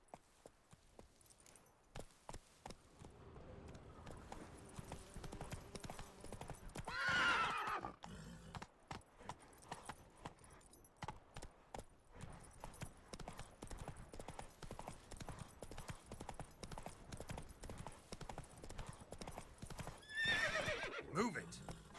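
A horse in The Witcher 3 clip-clopping steadily on hooves throughout, with two loud whinnies, one early and one near the end; a voice briefly speaks.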